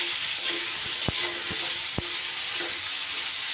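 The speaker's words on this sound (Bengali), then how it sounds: "কুমড়োটা দিয়েও কয়েক সেকেন্ড নাড়াচাড়া করে নেব।" Pumpkin and potato stir-fry in a kadai with a steady, even sizzle of hot oil, broken by a few sharp scrapes and knocks as the spatula turns the vegetables.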